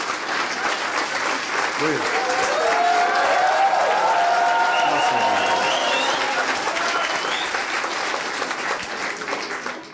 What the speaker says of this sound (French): C'est vraiment super. On n'avait jamais applaudi.